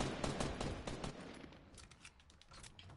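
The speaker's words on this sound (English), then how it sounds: "Where on ground is he shooting?" Rapid bursts of automatic gunfire crackle in a Fortnite match, dense at first and then thinning into scattered, more distant shots, with no voices over them.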